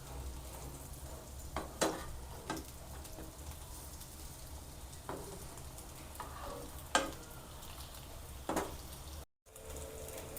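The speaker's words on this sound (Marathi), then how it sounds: "आता आपण एक साईडने चांगलं असं क्रिस्पी होईपर्यंत फ्राय करून घेऊया।" Soybean tikki shallow-frying in a pan until crispy, with a steady, crackling sizzle broken by several sharp pops and spatula taps and a brief cut near the end, heard up close.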